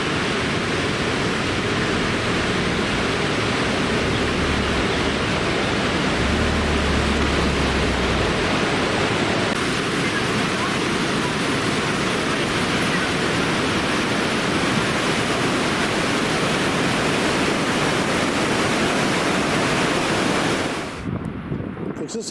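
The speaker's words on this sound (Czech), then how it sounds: "Další vodopád, Latefossen." Latefossen waterfall in Norway roars as a dense, unbroken wash of falling water, loud and close for the whole stretch, with wind buffeting mixed in.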